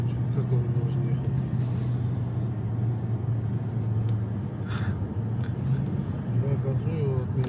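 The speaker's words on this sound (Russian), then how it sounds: "Я газую, от меня тоже такой же выхлоп идет." A car engine idling and revving in extreme frost near −64°C in Oymyakon, Yakutia, gives a steady low rumble with slight surges. Voices talk over it throughout.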